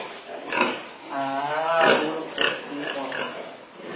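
Pigs on a farm grunt and oink repeatedly at close range while a person talks over them.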